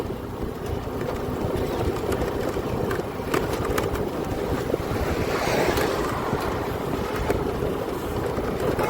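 Loud, steady wind rushes and buffets against the microphone throughout, a continuous roaring gust from riding a scooter in cold air, with no voices.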